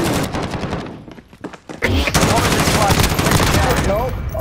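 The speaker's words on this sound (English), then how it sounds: "Mark's trying to shoot at me through the vents." Video game shootout gunfire rattles in rapid bursts, fading to a brief lull before a dense, loud barrage of shots resumes, with voices and game sounds mixed in.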